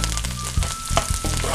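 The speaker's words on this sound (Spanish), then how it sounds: "Ahora que nuestro aceite ya está caliente, vamos a agregarle aquí la cebolla y el cilantro." Onion and cilantro hit hot oil in a pan, giving a loud, steady sizzle with a few brief clatters of a utensil stirring, alone without talk.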